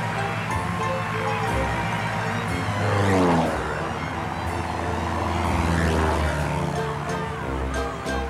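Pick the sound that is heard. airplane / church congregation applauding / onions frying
airplane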